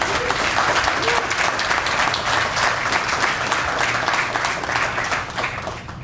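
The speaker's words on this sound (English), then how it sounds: "please give this city a nice round of applause." A crowd gives steady, loud applause at an outdoor groundbreaking ceremony for an agricultural export facility in Portsmouth, dense clapping continuing evenly for several seconds and tapering slightly at the end.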